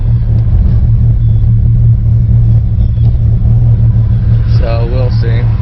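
A Ford Mustang 4.0 V6 with a modified idle at about 725 rpm drives on the road after a cold start, its engine a steady low rumble throughout, with a brief voice near the end.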